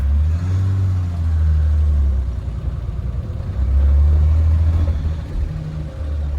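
A BMW E30 325iS engine with a slightly noisy lower end runs close by as a steady, heavy low rumble that swells briefly midway, with no voices.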